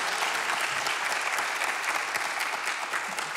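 A studio audience at a morning television show applauds steadily, a dense, even wash of clapping at moderate loudness that holds from start to end.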